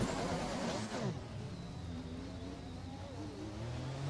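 Car in a racing game at Monaco with a rev glitch: an engine whirring and revving with wavering pitch, loud and continuous, rising again near the end.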